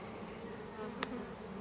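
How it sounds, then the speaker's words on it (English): A honeybee swarm buzzes in a faint, steady hum against a quiet, hot outdoor background, with one brief sharp tick partway through. "that'll let the bees that are in the air find them a little easier"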